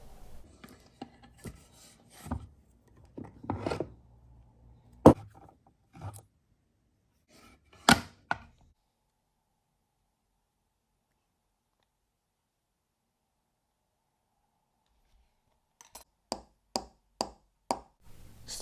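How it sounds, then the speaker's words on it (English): Sharp metallic taps from hammering a small part into place while restoring a 17-jewel Oris Super model watch, scattered knocks and scrapes, then a long silence and a quick run of light taps. "So I'll hammer it in first, and then I can shave the bottom and the top off."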